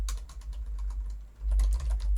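Quick clicking keystrokes on a computer keyboard come in a steady burst, pause briefly, then resume with a heavier, closer flurry of key taps.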